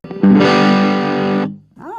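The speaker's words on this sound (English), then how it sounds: "So the distortion is almost all the way up." A Firefly FFDB Classic guitar through a distortion pedal set near maximum with mid tone: one loud, thick sustained chord ringing about a second before cutting off, then a brief squealing bend.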